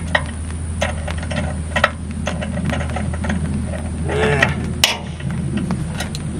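A ratchet tightens bolts while a Harbor Freight chipper shredder is being assembled, making scattered close metallic clicks and short ratcheting bursts over a low steady background hum.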